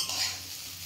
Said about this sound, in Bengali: হালকাভাবে এরকম করে ভেজে